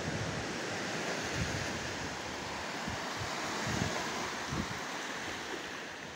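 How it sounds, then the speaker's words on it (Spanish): Ocean waves surge and crash against walls along a beach shoreline, a steady loud wash of surf with repeated low thuds of impact and some wind noise, no voices. "Pues las olas chocan contra estas paredes."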